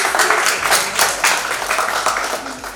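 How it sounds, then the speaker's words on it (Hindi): Audience applause at an industry talk on commercial real estate in Indore, a dense, steady wash of many hands clapping close by for a few seconds, with faint voices mixed in. "जबरदस्त तालियां होनी चाहिए भाई साहब"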